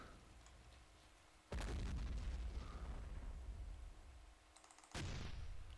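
Two heavy booms roll out as a T-34 tank is destroyed in the Men of War video game, each a sudden loud blast that leaves a long rumbling tail.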